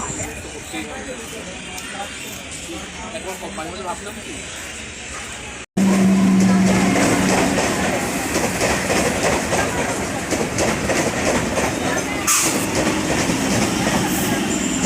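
A train rolls through a station, a loud continuous rumble with rhythmic clacking of wheels and a brief squeal, after a quieter stretch of distant station chatter.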